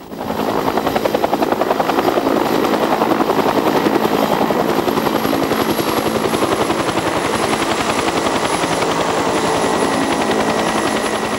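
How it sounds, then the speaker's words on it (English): Military helicopter landing a squad on a rise, a loud steady rotor thump and turbine whine filling the whole stretch, close and continuous with no talk. "By helicopter, the Bill squad is landed on a rise 700 meters from the guests"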